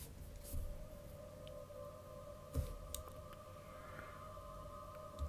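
Alchemy Aether Choir synth pad in Logic Pro, an airy, ethereal sustained choir-like tone with a steady held pitch, soft and quiet over faint background hiss, with a few light clicks.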